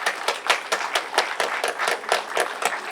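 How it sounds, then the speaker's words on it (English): Audience applause at an Indian flag raising ceremony: a steady wash of many hands clapping at close range, with rhythmic bursts running throughout and no voices over it. "a huge round of applause to everyone who spoke today and everyone who came today"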